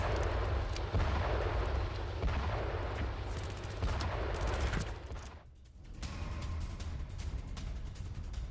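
A Hezbollah rocket launcher attack on an Israeli military base: sustained loud, rumbling weapons fire and blasts fill the air, briefly dropping to a lull midway before the heavy roar resumes, with no speech.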